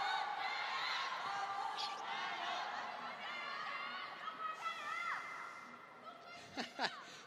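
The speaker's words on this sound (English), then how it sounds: "Players having to wait to hear who wins the cheering argument in the crowd" Crowd at a table tennis final cheering and chattering in a large arena, a steady broad wash of voices with scattered whoops and shouts rising near the end.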